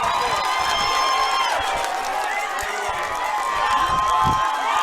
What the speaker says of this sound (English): you could probably hear the visiting crowd here behind me